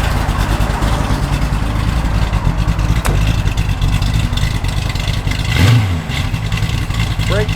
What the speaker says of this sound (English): nasty sounding big block